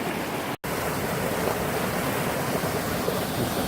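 A rushing mountain stream on a night hike up Mt Whitney, with icy water flowing as a loud, dense, continuous roar close by, broken only by a brief dropout near the start.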